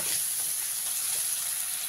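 A spice paste of cumin and coriander fries in oil for a fish curry, and its even hiss of sizzle holds steady at close range with soft crackle throughout. No one talks.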